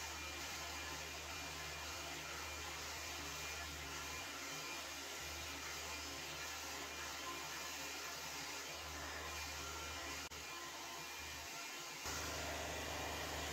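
A Revlon One Step hair dryer brush runs steadily and close up, a continuous loud whooshing airflow with a motor whine, shifting slightly as it moves and briefly dipping near the end.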